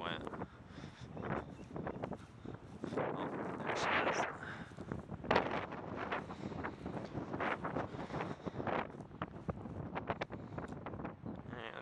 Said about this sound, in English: Definitely the wind doesn't help.